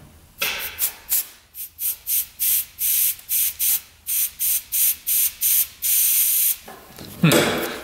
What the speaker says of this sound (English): we're gonna blow through these lines with an air compressor